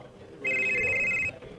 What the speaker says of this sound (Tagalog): Oh, nitingog yung cellphone